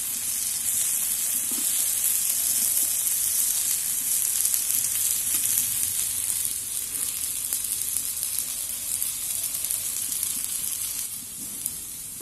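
Brinjal slices fry in a pan with a steady, bright sizzle that carries on for the whole stretch. There is no talk over it.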